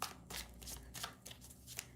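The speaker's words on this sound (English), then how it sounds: "Oh, I love the way this deck shuffles." A tarot card deck is shuffled in quick repeated riffles, soft and close.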